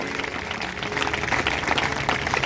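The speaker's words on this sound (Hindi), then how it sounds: "प्रभु के लिए जोरदार तालियां बजाएंगे" A church congregation applauding loudly at a Sunday sermon, a dense, steady wash of many hands clapping that builds slightly and continues throughout.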